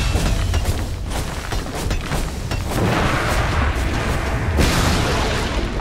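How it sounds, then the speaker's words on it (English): A tower under attack in a Dota 2 match, with loud repeated booming impacts and bursts over a steady battle din, building into a heavier rumbling barrage toward the end. "Radiant's top tower is under attack."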